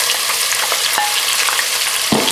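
Onions tossed into hot oil with cumin, cardamom and bay leaf sizzle loudly and steadily for black-eyed bean lobia, with faint stirring clinks over the frying.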